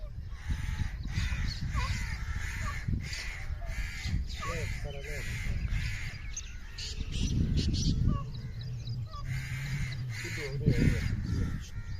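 Crows caw repeatedly among other birds on an early morning in a Punjab village beside farm fields. The harsh calls come near and far in irregular bursts over a steady outdoor hum, with a voice heard at times.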